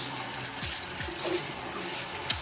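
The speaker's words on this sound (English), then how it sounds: "So let's clean out our sink a little bit." Lukewarm tap water runs into a sink being cleaned, a soft steady splashing stream with a few brief drips and knocks close by.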